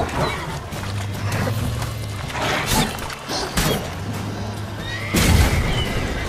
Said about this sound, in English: Oh god, the horse is scared.